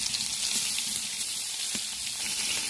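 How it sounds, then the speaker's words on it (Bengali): Koi fish fry in hot oil in a wok, giving a dense, even sizzle that stays loud and close throughout, with faint pops and no talking. "আমার কড়াই তেল গরম হয়ে গেছে, এবার মাছগুলো একে একে ছেড়ে দেবো।"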